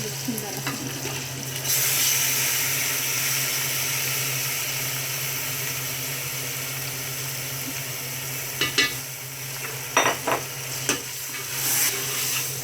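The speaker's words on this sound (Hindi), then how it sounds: "अब इसमें मैरिनेशन किया हुआ चिकन जाएगा।" Marinated chicken fries in a pot for degi-style chicken pulao, with a constant loud sizzle and, later, a run of brisk scraping stirs against the pot, close up and without voices.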